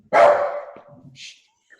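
A dog gives one loud, close bark that trails off, then a few softer yips and scuffles, heard at a home door while a gardening Q&A session runs.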